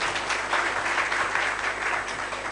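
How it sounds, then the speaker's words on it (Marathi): Steady audience applause at a Marathi public gathering, with dense, even clapping that holds at a constant level for the whole stretch, filling the room without any voices standing out. "यांच्यासाठी जरा जोरदार टाळ्या वाजवल्या पाहिजे"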